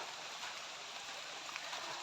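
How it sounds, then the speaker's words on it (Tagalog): Heavy rain pours down steadily, a dense continuous hiss of water with no pauses, fairly faint and even throughout. "Malakas na yung ulan eh."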